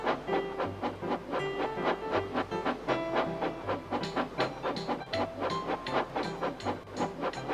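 A steam locomotive pulling a Santa special departs with a rapid, regular chuff-chuff rhythm and hissing steam, each beat sharp and evenly spaced, heard moderately close without talk.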